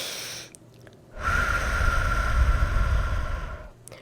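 A single long, steady exhalation during guided meditation, a soft rushing breath that swells for about two and a half seconds and then fades, close and alone in a quiet room.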